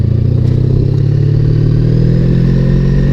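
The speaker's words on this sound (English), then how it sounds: "Hear those backfires?" A motorcycle engine with out-of-tune carburetors runs loud and steady at close range, a continuous low rumble with faint irregular pops from backfiring.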